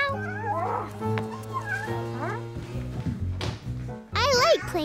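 A voice playfully imitates a cat's meow amid other animal-like vocal noises and excited chatter at a fireworks-night gathering, with the rising mewing cries standing out near the end.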